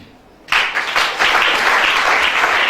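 A congregation bursts into applause and acclaim for Jesus during a sermon, the loud crowd clapping starting abruptly after a quiet moment and holding steady and full, with cheering voices mixed into the din.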